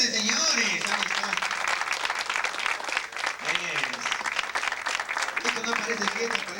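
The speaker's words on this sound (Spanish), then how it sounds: "aplausos fuertes, señores!" Audience applause at a Peruvian folk music gathering, steady dense clapping filling the space with music and voices mixed in underneath throughout.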